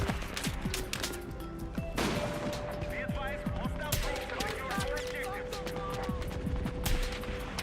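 Video game gunfire crackles in rapid bursts and scattered single shots, moderately loud and continuous, layered with game music and effects, while people talk over it.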